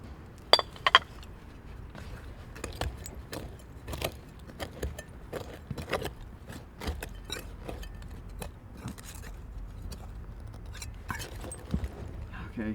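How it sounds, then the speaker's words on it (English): Glass bottles and shards clink and tinkle as a digger works through buried artifacts beneath a historic Minnesota neighborhood, with sharp scattered knocks over steady scraping, close and fairly quiet. "Okay, I hear a lot of glass down here."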